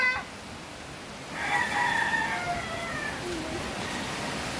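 A rooster crows once at moderate distance over a constant low background hum, with a faint cluck afterward.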